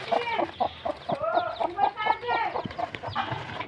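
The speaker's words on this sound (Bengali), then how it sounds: "আর এই তো মুরগির বাচ্চা উঠছে অনেকগুলা।" Hens and a crowd of young chicks around a family home's yard cluck and peep in quick, overlapping bursts, close and fairly loud, with no talking.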